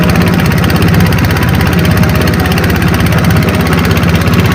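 The engine of a boat moving fast on a river, a loud steady low-pitched drone that holds constant throughout.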